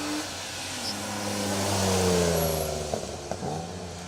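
A BMW Compact rally car on a Welsh Rally Championship forest stage approaches and passes, engine note sweeping steadily as it goes by, with a couple of sharp gearshift or lift-off pops near the end.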